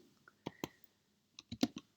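Soft keyboard typing: a few scattered key taps, a pause, then a quick cluster of clicks, close and quiet.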